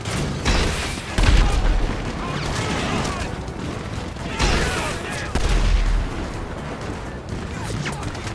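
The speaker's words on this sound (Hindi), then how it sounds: "इन पे बजूका ही बजूका मारूंगा सालों को" Bazooka blasts and rolling explosions in GTA 5 during a five-star police escape, loud and dense, with heavy booms near 1.2 and 5.4 seconds over continuous gunfire and rumble.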